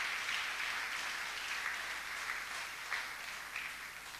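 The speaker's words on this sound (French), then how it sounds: "tobeteli nkolo maboko" A church congregation claps hands together in praise of the Lord, a dense, steady wash of clapping that holds for several seconds with no voices over it.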